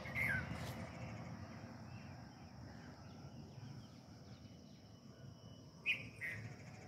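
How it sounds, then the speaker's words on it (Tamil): Faint morning birdsong of chirping sparrows comes from a distance over a quiet outdoor hum, with a few brief sharper chirps standing out near the start and end. "அந்த குருவி சவுண்ட்லாம் பாருங்கள்"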